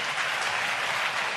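A snooker crowd at the China Open applauds a shot, a steady dense clapping that fills the whole moment with no voices over it.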